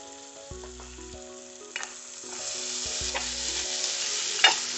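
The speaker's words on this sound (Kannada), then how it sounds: "ಇದು ಸ್ವಲ್ಪ ಕಲ್ಲರ್ ಬರೋ ತನಕನೂ ಇದು ಫ್ರೈ ಮಾಡ್ಕೋಬೇಕು ನಾವು ಚೆನ್ನಾಗಿ ಮಾಡಿ" Chopped onions frying in a pan, a continuous sizzle that grows louder toward the end with occasional stirring scrapes, alone with faint background music.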